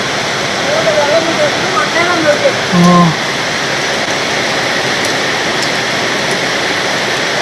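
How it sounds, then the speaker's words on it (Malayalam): A loud, continuous downpour hisses steadily throughout, with brief faint voices and a short tonal sound early on. "ഭയങ്കര മഴയാണ്"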